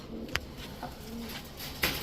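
A male Shapchila pigeon gives a brief soft coo, faint and close, with a couple of small knocks in a quiet setting.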